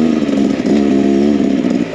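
A Beta X Trainer enduro motorcycle rides off-road on a dusty trail, its engine droning close and steady with a buzzy, fluctuating tone for the whole stretch and no talk.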